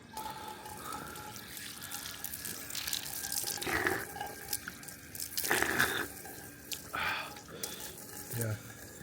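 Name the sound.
water running from a public drinking tap in Kotor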